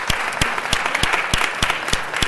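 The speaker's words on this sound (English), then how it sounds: "Give Dominique DePrima a round of applause" An audience at a city council meeting applauds, the dense clapping steady and fairly close throughout with sharper individual claps standing out.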